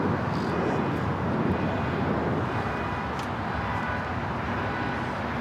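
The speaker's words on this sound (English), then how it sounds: "I got the Singapore 777 as well as the Streamliner, both heading to 25 right for Southside at takeoffs." A Singapore Boeing 777 jet takes off at Los Angeles International Airport: a broad, steady engine roar with low rumble, heard from a distance and holding constant throughout.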